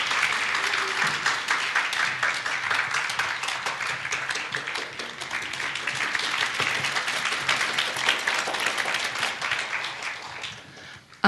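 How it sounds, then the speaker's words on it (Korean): A church congregation breaks into sustained, loud applause, dense clapping from many hands continuing steadily for several seconds before stopping abruptly. "우리 전지숙 자매 나오실 때 한번 큰 박수."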